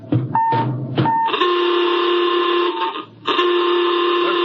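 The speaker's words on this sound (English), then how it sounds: "Masters, sound general quarters" A loud, steady electronic general quarters alarm tone blares aboard a ship in a 1955 radio drama, in long sustained bursts, preceded by a few short beeps, with a brief break before it resumes.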